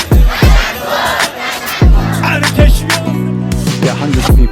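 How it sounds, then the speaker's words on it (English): A large crowd of hundreds at a nationwide rally in Iran cheers and chants in rhythmic, loud bursts, the roar rising and falling in repeated waves with no clear single voice. "hundreds of people cheering in support of the armed forces"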